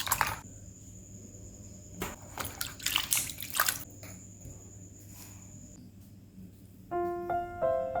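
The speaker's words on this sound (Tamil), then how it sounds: "இப்போ நம்ம இந்த மேங்கோஸ் நல்லா வாஷ் பண்ணிக்கலாம்." Mangoes being washed by hand in water, with soft splashes and sloshing in short bursts, a few drips and clunks between them, close and fairly quiet against a steady background hum.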